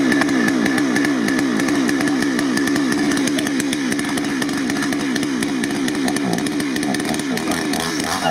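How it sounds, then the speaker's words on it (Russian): A chainsaw runs continuously at close range, a loud, buzzing two-stroke drone with a steady rattling pulse and slight rises in pitch, with no talk heard over it. "ты затушил, Саня, пилу"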